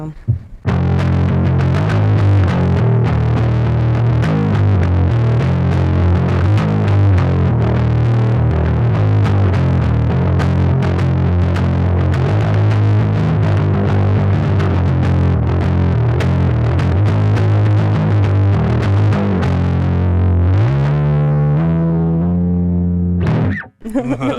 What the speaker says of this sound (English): That's always the hardest thing to do on bass, I think, when you click on a distortion